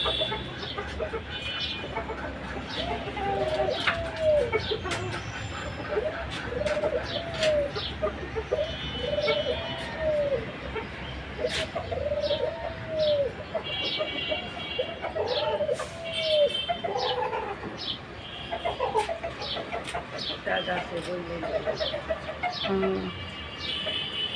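Repeated soft pigeon coos in a steady series from a rooftop pigeon house, mixed with chickens and other birds in the background and occasional voices.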